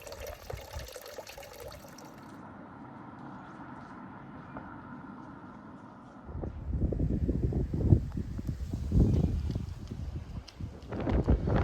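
Water trickles into a trough on a walk near Hopton Quarries. A soft, steady flow is heard at first, then it turns louder and splashier, with some wind noise across the microphone.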